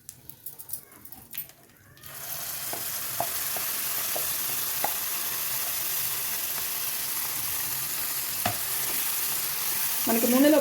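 Tomato chutney with a pinch of asafoetida bubbling and sizzling in oil, quiet handling sounds first, then a sudden, steady close frying hiss with occasional pops and a brief stir near the end.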